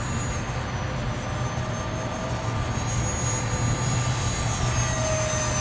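An FF-Viper RC model jet in flight after a takeoff at about three-quarter throttle, giving a steady, continuous turbine whine and rush that holds at a constant moderate level, with no talk over it.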